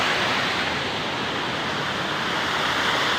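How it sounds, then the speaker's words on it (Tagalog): A steady, dense roar of rushing flood water fills the clip, loud and unbroken like a strong torrent close by. "Grabe ang lakas ng tubig na baha."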